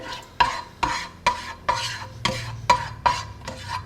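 Omelet mixture being stirred briskly in a bowl, about nine evenly spaced scraping strokes close up with light clinks, no talking.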